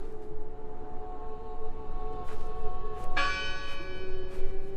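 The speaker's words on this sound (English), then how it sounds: "But why would they ring the bell?" A church bell tolls in the video game Draugen, its sustained ringing tones layered with a fresh strike partway through, loud and clear with no talk.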